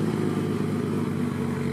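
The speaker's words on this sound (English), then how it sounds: "That exhaust is nice on it. GT 500." A Ford GT500's exhaust rumbles loud and steady at a cars and coffee gathering in Houston, Texas, a continuous close engine roar with no pauses.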